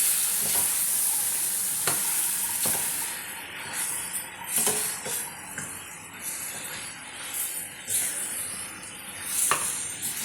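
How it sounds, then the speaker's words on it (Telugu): Chicken pieces fry in oil with onion-ginger-garlic paste in a pan, a steady bright sizzle broken by repeated stirring scrapes, close and fairly loud, no talk. "ఈ ఆయిల్లోనే మంచిగా ఫ్రై కావాలి చికెన్"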